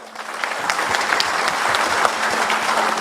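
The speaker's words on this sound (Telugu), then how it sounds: "దీనికి చప్పట్లు కొట్టచ్చు" An audience at a talk about a guru breaks into applause, a dense, even patter of many hands clapping that holds steady throughout and swells slightly at the close.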